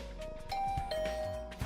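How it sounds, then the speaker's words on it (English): A two-tone doorbell chime from the video game The Hundred Line rings clearly and close, a sustained ding-dong with a bright ringing tail over soft background music. "Ding dong! No rest for the Takumi here!"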